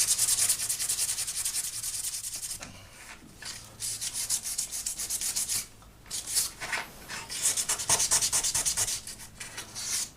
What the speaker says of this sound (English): So, get a little piece of sandpaper.